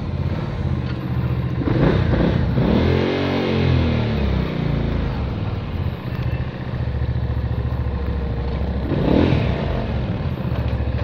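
A Benda Napoleonbob 450 cruiser motorcycle's exhaust thrums loudly and steadily while riding, with a low pulsing engine note that rises and falls through two rev swells.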